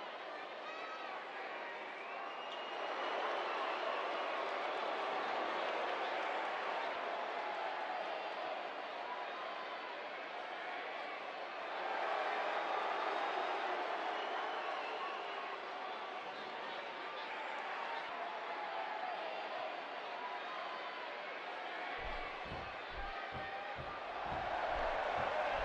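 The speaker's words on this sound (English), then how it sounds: "it sounds to me like the crowd is more than ready for this one" A large crowd at a WWE wrestling event roars steadily throughout, a dense and loud wash of cheering that swells and eases slightly, with commentary voices mixed in.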